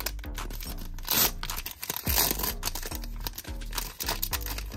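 A Pokémon Fusion Strike card pack is torn open up close, with several sharp foil rips and crinkling bursts separated by short pauses.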